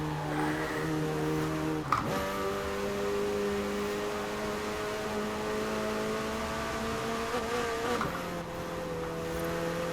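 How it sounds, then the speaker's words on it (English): A McLaren 720S Spider in Forza Horizon 4 drives over a rough section of road, its engine giving a steady, loud droning note that rises in pitch, with brief jolts as the car bounces. "You could hear the car kind of hopping around and the RPMs rising."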